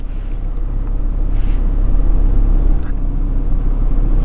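An Audi RS3 Sportback's 2.5-litre petrol engine gives off a steady, deep rumble that stays even throughout, heard up close with no voices.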